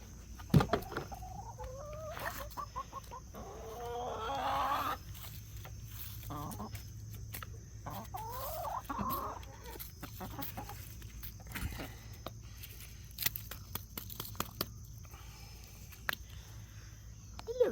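Backyard chickens cluck in short, scattered bursts close by, with soft fowl calls rising now and then amid quiet outdoor rustling and a person talking gently to them.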